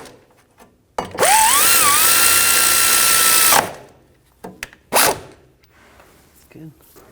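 A power tool runs up into one sustained whirring burst of about two and a half seconds, tightening driveshaft coupler bolts on a 2007–2013 BMW X5, close and loud, followed by a short blip and some clinks.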